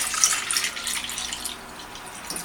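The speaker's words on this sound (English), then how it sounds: "I'm going to use this bowl and I'm going to pour off some of the cream" Heavy cream poured into a bowl while making homemade butter with a Kilner butter churner, a steady liquid splash and trickle running for a couple of seconds, fairly close and continuous, with no one talking.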